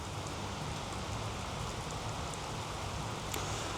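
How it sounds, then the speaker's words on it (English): Heavy rain outdoors in Russia: a dense, constant hiss of downpour with a steady patter on surfaces, loud and unbroken throughout, with no voices. "the rain is coming down so heavy."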